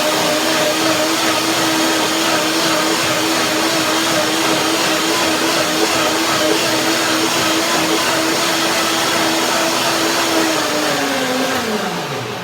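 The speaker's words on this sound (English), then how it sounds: "So now I blend the cherries first" A blender purees cherries for a cherry macadamia chocolate pie, giving a loud, steady motor whir that holds an even pitch for about eleven seconds, then winds down as the motor slows near the end.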